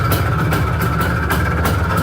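An IZh Planeta 5 motorcycle engine idles, a loud, steady low rumble with a faint rhythmic pulsing throughout and no talk over it.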